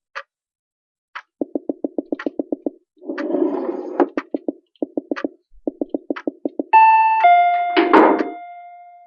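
Electronic doorbell rings loudly and close: several bursts of rapid repeated buzzing chimes separated by pauses, ending in a sustained multi-tone ding with some rustling noise.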